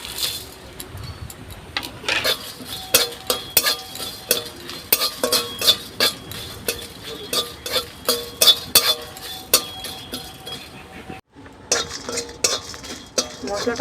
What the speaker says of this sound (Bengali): শুকনো লঙ্কা আর গোটা গরম মশলা এখানে দারচিনি এলাচ আর লবঙ্গ গোটা জিরে আর গোটা ধনে একসাথে কড়াইতে ভেজে নেব